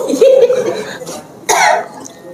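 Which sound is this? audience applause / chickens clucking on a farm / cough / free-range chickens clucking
cough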